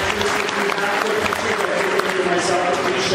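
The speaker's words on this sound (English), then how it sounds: "Let's hear a huge round of applause for our students and all of their experts here on" An audience at a graduation fashion show gives students on stage a sustained round of dense, steady applause, with some crowd voices mixed in.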